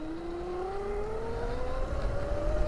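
A Razor MX350 electric dirt bike, overvolted on 36V, rides along with a steady motor whine that climbs slowly in pitch as it speeds up, over rumbling wind and road noise.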